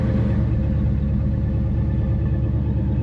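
Steady, deep rumble of a 1985 Ford Mustang 5.0 LX V8 running, near and loud, an even low-pitched idle with no talking.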